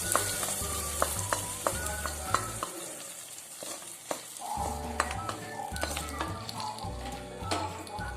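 Hot sizzling as fried onion and mustard seed tempering is added to mango curry in a pan, with repeated scraping and stirring strokes and occasional metallic taps, close and lively, nobody talking.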